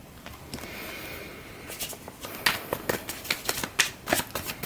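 A deck of tarot cards is riffled and shuffled by hand during a reading, giving bursts of crisp papery flutters and soft taps that grow busier and louder toward the end, close up with no talking.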